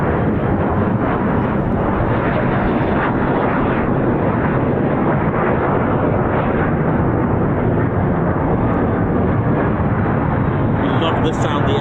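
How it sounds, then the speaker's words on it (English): Boeing EF-18 Hornet fighter jets fly past at an air show, a loud, continuous roaring rumble that fills the whole span without pause, close and overwhelming. "I love the sound the F-18's made."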